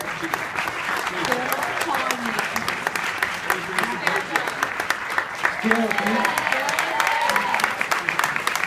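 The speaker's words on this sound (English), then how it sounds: "another round of applause for the composer." Audience applause for the composer at a documentary film premiere Q&A in New York, sustained dense clapping throughout with a few voices speaking over it.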